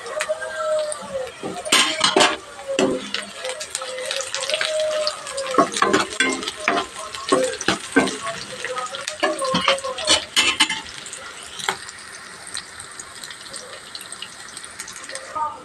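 Onions and small shallots fry in a pan, sizzling steadily while a spoon scrapes and stirs them in repeated clattering strokes, with some watery splashing in between.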